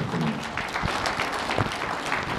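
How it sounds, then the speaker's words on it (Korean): Audience applause after co-chairs of a Seoul group are introduced at a public debate forum, a dense wash of clapping from a crowd holding steady throughout with a few brief voices under it. "함께 앞으로 수고 많이 하시라고 박수 한꺼번에 부탁드립니다"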